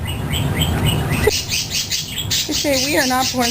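A pet cockatiel or budgie chirping indoors, with quick repeated bright tweets and rising whistles throughout, loud and close, partly under a person's speech.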